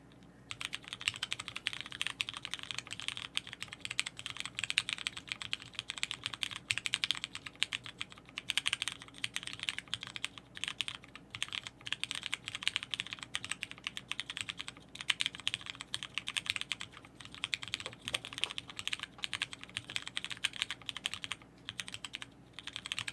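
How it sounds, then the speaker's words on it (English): Someone types steadily on a custom 40% mechanical keyboard with Cherry switches, a prototype build. The clicks and clacks come close and fast in an unbroken stream, alone with no voices. "I'm doing another one because"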